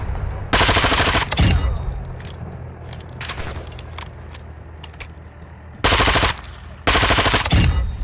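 Bursts of automatic gunfire from a weapon in Call of Duty DMZ, loud and close, with several rapid strings of shots separated by pauses filled with quieter game ambience.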